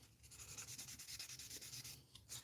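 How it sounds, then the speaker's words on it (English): Wet sandpaper rubs back and forth over resin armor parts of a 1/60 NeoGrade Sazabi model kit, a quiet, close, rhythmic scrubbing with steady strokes and no speech. "anything that I can wet sand and get imperfections out"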